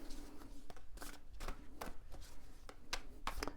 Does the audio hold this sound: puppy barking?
no